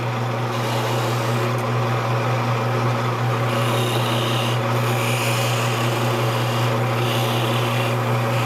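A small wood carver's skew cuts a turned piece off a spinning wood lathe, making a continuous close rasping, scraping hiss over the steady hum of the lathe motor, with slight changes in tone as the cut progresses.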